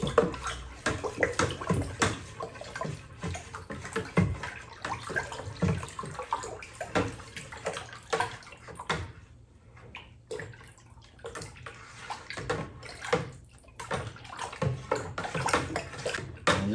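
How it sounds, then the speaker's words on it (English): Strawberry wine must being stirred together with water in a bag, giving a steady sloshing, swirling liquid sound with repeated splashes and a brief quieter pause midway. "I'm just going to stir everything in really good"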